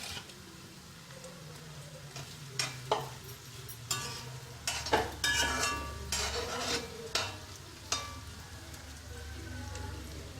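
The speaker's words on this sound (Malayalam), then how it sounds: "കുറച്ച് വെളിച്ചെണ്ണ ഒഴിച്ച് നമുക്കിതൊന്ന് വറുത്ത് കോരിയെടുക്കാം." Soya chunk mix frying in coconut oil in a pan, a steady low sizzle with scattered clinks and stirring scrapes, close and moderately loud throughout.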